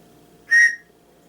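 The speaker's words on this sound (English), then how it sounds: "this is the whistle it comes with. You might want to cover your ears for a second here." A loud, shrill whistle supplied with a survival knife gives a single blast of about a quarter second, clear and close with no talking.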